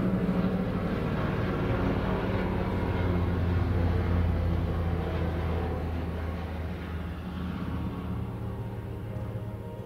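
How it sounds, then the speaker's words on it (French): A low, steady drone of an airplane passing overhead, loud at first and slowly fading as it moves away. "il y a un avion qui passe"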